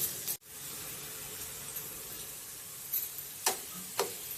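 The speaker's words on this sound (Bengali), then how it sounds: "পেঁয়াজ বেরেস্তাটা আমার হয়েই এসছে, একটু লাল করে ভেজে নেব" Sliced onions frying in hot oil for kesari fried rice, a steady soft sizzle with a few brief stirring scrapes near the end, no talking.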